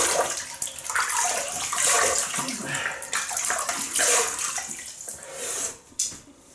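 Water runs steadily from a tap into a basin while splashing as the face is wetted before shaving, a continuous close hiss with small splashes and one brief louder splash near the end.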